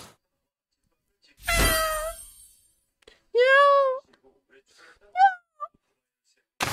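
A person imitates a cat's meow with a few drawn-out, wavering mewing calls separated by pauses, loud and close, with talk around them.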